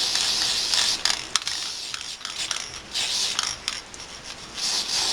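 Close hissing bursts of aerosol hair spray, three spurts separated by brief pauses, over faint rubbing.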